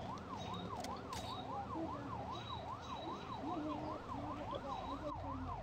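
A police car siren wails in a video game, its rising and falling tone repeating steadily for several seconds over a low engine-like rumble, with faint scattered game effects and no speech.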